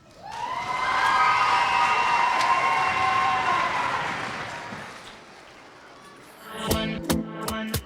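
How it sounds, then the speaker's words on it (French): A school talent-show audience cheers and applauds after a contemporary dance performance, a loud sustained roar of crowd noise with whistles, fading out before music starts. "Je veux qu'on applaudisse très fort Katia qui est en CE2."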